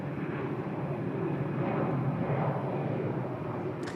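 A Lufthansa airliner at Bangkok airport gives off a broad, steady engine roar, loud and continuous throughout with no voices over it.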